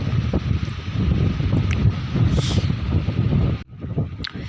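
Gusty wind buffets the microphone in a low, rumbling roar on an open rock where ginger is spread to dry, dropping off abruptly near the end.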